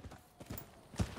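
Horse hooves clip-clop on the ground in Rise of the Ronin, a few quick uneven hoofbeats close by, the last one heaviest, with no talking.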